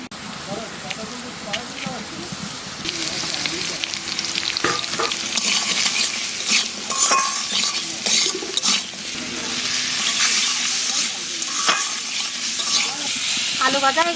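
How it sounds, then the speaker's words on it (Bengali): Potatoes fry in a pan with steady sizzling and stirring scrapes, loud and close throughout, with clatters of the utensil against the pan and a voice heard in places. "আলু ভাজা হয়ে গেছে"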